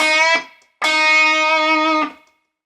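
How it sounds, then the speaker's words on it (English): Electric guitar with a distorted tone plays a short note, then after a brief gap a bent note that rings out and holds for over a second, clear and close with no talking. "So we bend up, then pick again once we've gone down"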